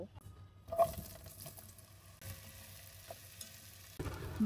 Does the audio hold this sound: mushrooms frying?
yes